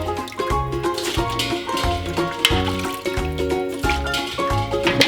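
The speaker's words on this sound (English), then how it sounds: "so we're just gonna sieve the soup now." Bacon and chicken vegetable soup poured through a sieve, a steady close splashing and trickling of liquid with tonal pouring and dripping throughout, fairly loud and alone.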